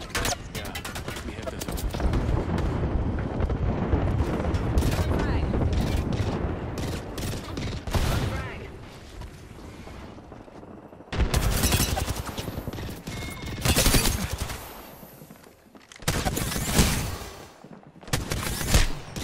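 Grenade blasts and bursts of automatic gunfire ring out in an Apex Legends battle royale match, loud and dense at first, then in sharp separate volleys between quieter gaps, with voices talking in places.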